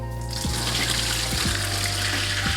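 Cold tap water pours steadily into a sink while chicken bones are rinsed for pho broth, a constant splashing rush with a few soft knocks of bones being handled.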